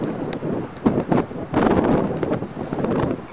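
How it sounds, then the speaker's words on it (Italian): Gusty wind buffets an outdoor microphone, a rough continuous roar that surges loudly around the one-second mark and stays strong afterward, with no talking. "Che vento"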